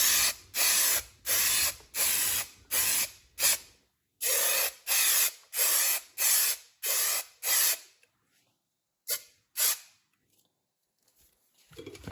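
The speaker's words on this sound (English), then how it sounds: "So same process, shake it well, spray both sides." An aerosol can sprays adhesive onto Alcantara door inserts for an NSX in a string of short, close, loud hissing bursts, roughly a dozen in quick rhythm, then a few quieter spurts after a pause.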